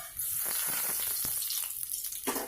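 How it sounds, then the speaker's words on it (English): Bread pakoda fries in hot oil with a steady bubbling sizzle, close and fairly quiet, with brief crackling bursts and no talking. "be careful and attentive while you are frying your bread pakoda into the hot oil"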